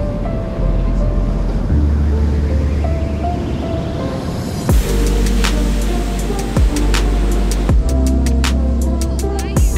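Choppy ocean waves wash onto a Maui beach in a rough, continuous rush, with strong wind buffeting the microphone and a few sharp knocks partway through.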